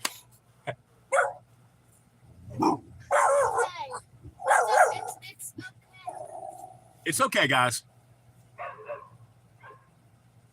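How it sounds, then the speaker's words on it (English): A small dog gives several sharp, yappy barks and a whimper in bursts, while a person speaks softly nearby. "Any noise, she jumps up and barks."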